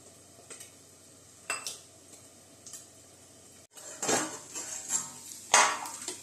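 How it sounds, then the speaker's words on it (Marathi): Onions sauté in oil in a pan as a spatula clinks and scrapes against the metal in scattered bursts over a faint, low sizzle. "आपण इकडं कांदा वगैरे परतून घेऊयात"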